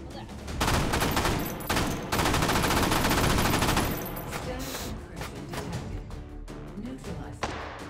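Dense enemy gunfire crackles in rapid automatic bursts and scattered single shots during a World War II firefight in the VR shooter Hot Dogs, Horseshoes & Hand Grenades, loud and sustained at first, then thinning into sporadic nearby reports.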